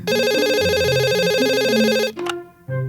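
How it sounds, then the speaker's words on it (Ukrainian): A telephone rings with a bright electronic warbling tone, loud and continuous for about two seconds, then cuts off before a brief voice is heard. "як задзвонив телефон"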